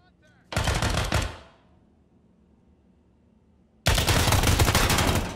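Two loud bursts of automatic gunfire from the tactical shooter game Ground Branch, each lasting about a second or more, separated by a quiet gap.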